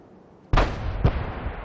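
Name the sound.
tank gun shots in video game World of Tanks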